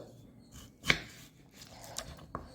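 A knife trims the ends off an onion for onion rings, giving one sharp close chop against a cutting board followed by two lighter cuts in a quiet kitchen.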